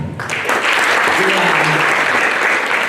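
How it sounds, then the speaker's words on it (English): Audience applause at a regional workshop on positive masculinity, a steady wash of many hands clapping, loud and close, with a voice faintly audible underneath. "Okay, so a real clap."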